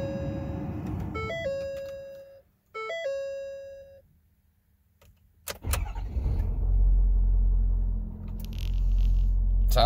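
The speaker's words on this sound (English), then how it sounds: "Sounds like a healthy diesel." Door-open chimes ring twice inside a 2011 Ford F-250 with the 6.7L diesel, then after a short quiet the engine cranks, catches and settles into a loud, steady rumbling idle.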